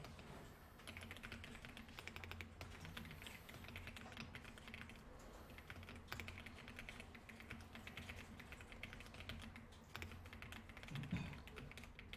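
Computer keyboard typing in a classroom during a word-processor exercise, with continuous clicking over steady room noise and a busy background of activity; no clear talk.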